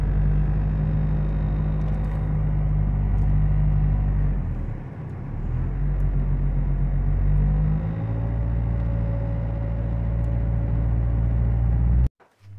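A 1995 Ford F150 pickup with a 4.9-liter engine drives on a main road, its steady engine rumble and road noise close and continuous, dipping briefly midway before cutting off at the end.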